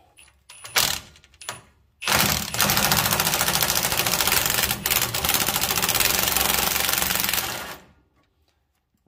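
A pneumatic impact wrench hammers on tie rod nuts and bolts of a 2wd squarebody truck, a loud, close, continuous rattling burst lasting several seconds with a brief hitch midway, preceded by a few short clanks and followed by quiet.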